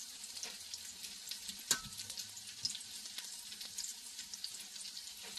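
Mackerel fritters fry in a pan, a steady close sizzle and crackle running throughout with a few sharper pops, no voices.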